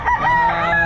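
A game fowl rooster crows at a pet market in Baliwag, one loud, drawn-out call heard close up across the whole moment, with busy market noise underneath.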